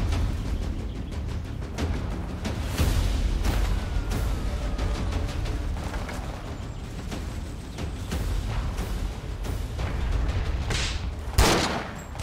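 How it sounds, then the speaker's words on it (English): Rapid bursts of gunfire crackle continuously in a Forgotten Hope 2 Battlefield 2 mod soundscape, with a sharp louder shot near the end. "Whoa, gunfire just in front."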